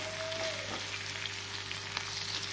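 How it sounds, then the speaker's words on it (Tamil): Indian pennywort (vallarai) leaves stir-fried in a pan, giving a soft, even, continuous sizzle close by with faint stirring underneath. "அடுத்து வல்லாரக்கீரையை கொஞ்சம் கொஞ்சமாக போட்டு அது கூட கிளறி விடுங்க."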